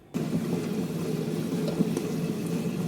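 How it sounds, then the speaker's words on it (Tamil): A wet grinder starts up and runs steadily, grinding soaked rice with grated coconut for appam batter, giving a continuous motor whir with a low rumbling churn, close and alone. "கிரைண்டரில் போட்டு எடுத்துக்கலாம்"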